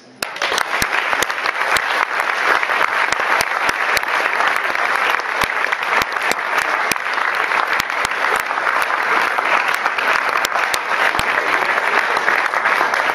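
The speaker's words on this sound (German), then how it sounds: "Und jetzt herzlichen Applaus" Sustained, dense applause from a concert audience at the 2009 Edenkoben guitar festival, greeting a performer. The clapping is loud and steady for about thirteen seconds, with sharp individual claps standing out from the roar.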